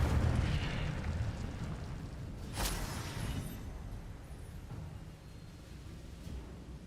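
A fire spell cast in the Hogwarts Legacy video game bursts out with a sharp whooshing blast that fades into a rumbling, crackling tail over steady game background noise.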